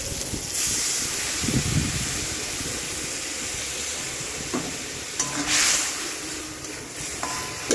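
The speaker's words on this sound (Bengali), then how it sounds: "জল ঢেলে দেবো।" Water poured into a hot pan of mango pieces and spices while cooking, giving a steady broad sizzling hiss with brief bursts of steam, close and fairly loud throughout.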